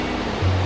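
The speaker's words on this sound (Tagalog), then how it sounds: "may kalakasan yung agos ngayon ng tubig dito" A strong river current rushes loudly and continuously nearby at a rainy creekside campsite, a dense steady roar of flowing water with no talk.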